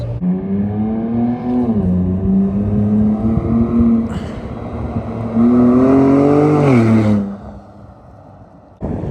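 A stock Ford Bronco on oversized wheels and tires with no lift cruises the interstate at about 80 mph, giving a steady, loud tire roar and engine drone inside the cab that swells and dips in pitch before cutting off near the end.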